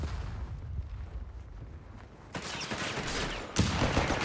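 Mortar rounds and gunfire in the video game Company of Heroes 3, a low rumbling battlefield bed that erupts into loud blasts and crackling fire, then a second sharp impact near the end.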